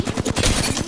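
Rapid bursts of automatic gunfire in Apex Legends, several sharp shots in quick succession, close and loud with no voices.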